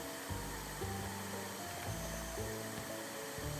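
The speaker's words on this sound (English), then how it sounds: "Vacuum up this hallway, we'll be good on it." Vacuum cleaner in the video game House Flipper 2, a steady motor whir with a continuous drone running the whole time, fairly close and at moderate level, with no speech.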